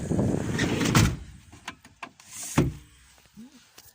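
A VW T5 Transporter van's sliding door is opened from inside, giving a heavy clunk and rolling slide followed by a second thud and a few smaller mechanical clicks, close up with no talk.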